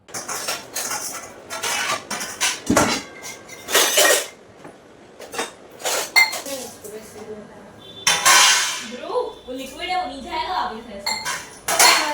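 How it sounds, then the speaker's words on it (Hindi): Household pots, dishes and cutlery being handled and arranged, with repeated loud metallic clinks and clatters in irregular bursts, close by. "यहाँ पे मैंने पहले पूरे बर्तन अच्छे से अरेंज किए"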